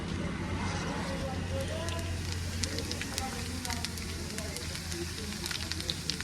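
Cumin seeds dropped into hot cooking oil for a potato-tomato curry, giving a loud, continuous close sizzle and crackle while someone talks over it.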